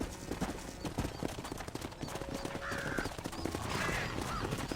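Horse hooves clip-clop steadily on the ground in the Red Dead Redemption video game, a faint rhythmic trot with a brief whinny and light background game sounds.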